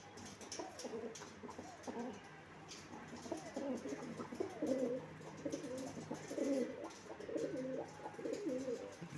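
Pigeons kept as a breeding pair of flying birds coo repeatedly at close range, a run of soft, rolling coos over a faint background hum.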